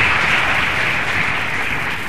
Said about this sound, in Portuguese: Então vamos dar uma salva de palmas ao nosso irmão e aos parentes da Giovana.